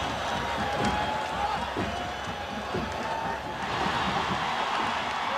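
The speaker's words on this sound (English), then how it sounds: "The crowd here feeling the intensity." A huge stadium crowd roars and cheers at a college football game in Tallahassee, Florida, between Miami and Florida State. The noise is a steady, dense wall of sound that swells slightly toward the end.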